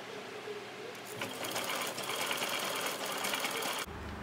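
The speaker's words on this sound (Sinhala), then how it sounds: "ඒකේ මේ විදිහට අපිට සිග්සැග් විදියට මහලා මේකේ නූල් යන එක නවත්ත ගන්න පුළුවන්." Sewing machine running a zigzag stitch along a blouse seam edge, a steady close mechanical whir that builds after a brief quieter start and stops abruptly near the end.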